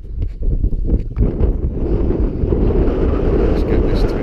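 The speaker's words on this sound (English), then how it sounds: "It's still very, very windy." Strong wind buffets the microphone with a loud, low rumbling roar throughout, steady and close, with a voice faintly heard under it, at a winter wild camp on Black Sail Pass in the Lake District.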